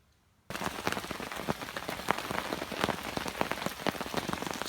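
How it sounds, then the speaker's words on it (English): Heavy rain drumming on a tent and hammock at a wild camp, starting abruptly after a brief quiet moment and then continuing as a dense, loud, steady patter with no voices. "We've had heavy rain like this for about 3 hours now"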